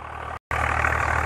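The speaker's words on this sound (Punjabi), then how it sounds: "ਇੱਥੇ ਬਾਈ ਨੇ ਸਿੰਪਲ ਟਰੈਕਟਰ ਆ 2009 ਮਾਡਲ" A 2009 Swaraj 855 tractor, fitted with power steering, idles nearby with a steady, even diesel drone that cuts out briefly for a split second.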